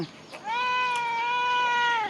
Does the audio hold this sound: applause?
no